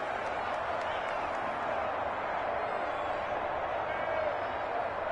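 Steady, broad roar of a video game football stadium crowd reacting with displeasure to a roughing-the-passer penalty, a continuous dense wash of noise with faint claps, with a commentator voice under it.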